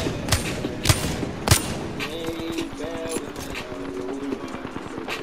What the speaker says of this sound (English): Somebody behind me, shooting.